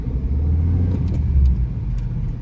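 An old beige car is driven and pulls up, its engine giving a steady, low rumble close by that holds at an even level, with no talking.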